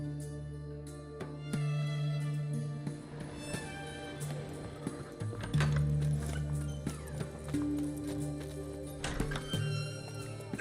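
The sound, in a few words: horse hooves in the video game The Witcher 3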